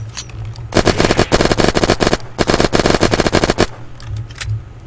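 Rapid automatic gunfire in the survival game Unturned, two loud close bursts of fast, evenly spaced shots separated by a short pause, followed by a few scattered quieter sounds, with no talk.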